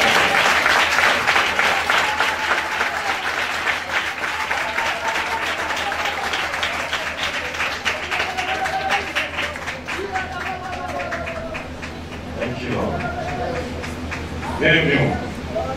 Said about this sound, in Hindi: ताली बजा करेंगे